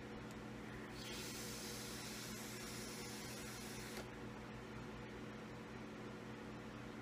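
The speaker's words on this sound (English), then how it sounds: "There's a fan blowing air this way." A fan blowing air, a steady loud whooshing hum throughout with a brighter hiss rising for about three seconds in the middle.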